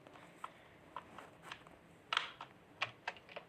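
Keys pressed one at a time on a computer keyboard during an ASMR keyboard cleaning, giving sparse, faint clicks and taps in a quiet room.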